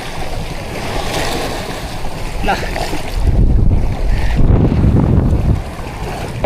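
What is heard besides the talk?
strong wind and sea current at the shore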